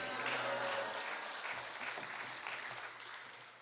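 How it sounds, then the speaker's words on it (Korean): A church congregation at a prayer retreat gives a steady round of applause, dense clapping that fades slightly toward the end, with little else over it. "할렐루야로 하나님 앞에 영광의 박수 올려드립니다"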